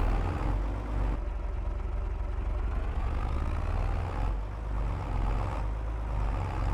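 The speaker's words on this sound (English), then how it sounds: "Older tractor sounds." An older tractor engine from a Farming Simulator 22 mod runs with a steady, heavy low rumble and a constant idling drone, with slight dips in intensity along the way and nothing else over it.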